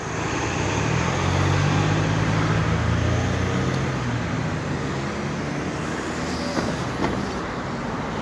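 Steady roar of road traffic, a continuous rumble of vehicles passing nearby with a low engine drone throughout and no voices.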